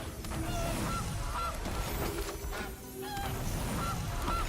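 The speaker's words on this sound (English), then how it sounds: "I love the goose sound." A cartoonish goose honks repeatedly in the card game MTG Arena, several distinct honks spaced through a dense, steady game soundscape, with no talking.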